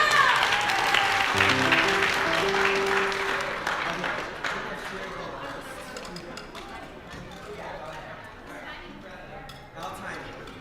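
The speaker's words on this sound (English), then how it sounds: "Let's give them a round of applause for being brave." Applause from a congregation at a Purim service, dense clapping with crowd chatter and cheering, strongest at the start and thinning out over about ten seconds while voices continue underneath.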